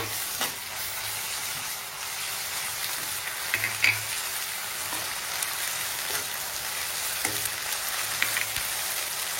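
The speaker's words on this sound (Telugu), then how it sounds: "ఆనియన్స్ ఫ్రై అయిపోయినాయి కదండి. అల్లం పేస్ట్ వేద్దాం కొంచెం, చాలు." Fried onions with ginger paste sizzling in a pan for masala dosa filling, a steady hiss broken by occasional spoon scrapes and clinks as the mixture is stirred.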